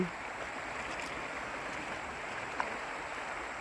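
The Nan River rushes in a steady, dense hiss, fast-moving and close by, with no voices and no clear breaks.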